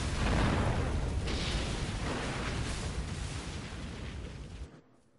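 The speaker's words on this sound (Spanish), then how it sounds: "Fuegos artificiales" Fireworks bursting in Resident Evil 6, a dense rumbling barrage of booms and crackles that starts loud and gradually fades before cutting off near the end.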